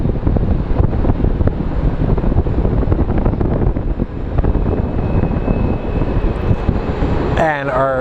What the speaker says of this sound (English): What a windy day today